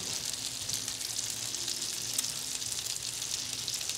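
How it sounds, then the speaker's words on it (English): Bacon sizzling alongside hot dogs on a grill, a steady, fairly quiet hiss and crackle with small pops running throughout and no voices. "Get that bacon nice and crispy on all sides."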